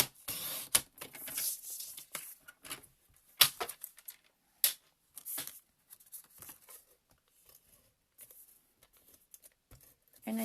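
Paper being cut to size for a card base, a quick series of close, crisp snips and rustles with short pauses between, quiet and without talk.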